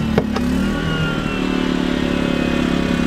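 A portable gasoline generator starts up and settles into a steady, loud mechanical drone with a rapid, even engine chatter, close by and alone after a couple of sharp transients at the start.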